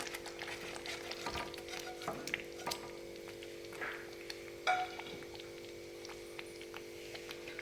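Shallow-fried paneer pieces being gently stirred into a pan, producing a quiet, low-level sizzle with faint scattered scrapes and clicks of a spoon.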